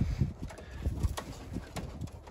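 Soft low pigeon coos repeat in short rounded pulses, close and quiet, with faint rustling and a steady high hiss behind.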